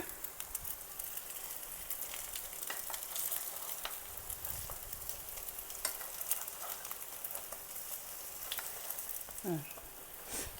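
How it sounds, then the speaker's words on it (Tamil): Potato cakes fry in oil, placed in one at a time, giving a faint, steady sizzle with light crackles and a brief sound near the end. "இப்போ 1 by 1 ஃப்ரை பண்ணலாம்."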